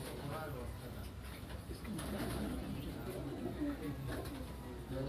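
Pigeons with red netted eyes coo continuously in a loft, soft throaty calls layered over a steady bed of bird noise while someone talks nearby.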